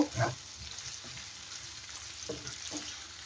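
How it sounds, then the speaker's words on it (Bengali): Chopped onions fry gently in oil with whole cumin seeds, giving a soft, faint sizzle broken by a few spatula scrapes and stirring clicks near the start and again later. "পেঁয়াজটা একটু সফট হওয়া পর্যন্ত ভাজবো।"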